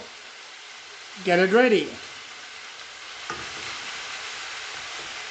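Water thrown into a hot, oily bowl of spices, hissing and sizzling steadily while being stirred, close and continuous, with a brief spoken phrase over it near the start.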